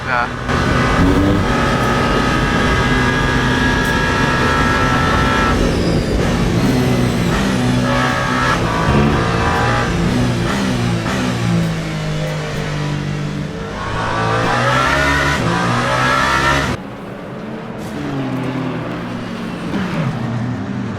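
A Ferrari race car in Le Mans Ultimate, a 24 Hours of Le Mans sim on hard tires, revs loud and steady as the engine climbs through gears, with a voice talking over it throughout.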